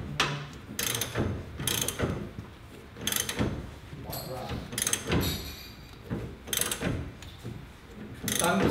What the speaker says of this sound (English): you want to basically tighten it until it stops, and then back off a little bit